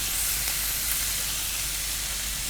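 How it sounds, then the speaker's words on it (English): Thin-cut beef belly sizzles on a Korean BBQ grill at home, a loud, continuous close-up hiss with no pauses. "I want to get you a clear shot of you cooking the meat."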